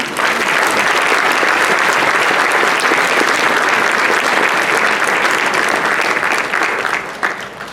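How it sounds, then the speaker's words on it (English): Dense, enthusiastic applause from an audience filling a room, loud and continuous for several seconds before tapering off near the end. "can we give a round of applause to each person in this room,"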